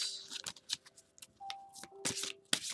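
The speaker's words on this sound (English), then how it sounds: "I'll shuffle this way." Tarot cards being shuffled in a series of quick, crisp riffling bursts at close range, with a faint steady tone underneath and no talking.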